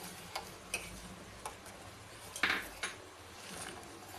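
A spoon clinks against the inside of a glass while stirring green-coloured milk sharbat, light ticking taps spaced irregularly with a brighter cluster midway, close and fairly quiet.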